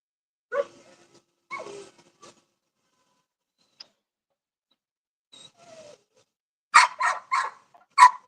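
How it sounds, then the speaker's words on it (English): A family dog barks at a car outside, a few sharp barks spaced apart early on, then a quick cluster of four loud, close barks near the end, with no talk. "She sees me in the car, so she's barking."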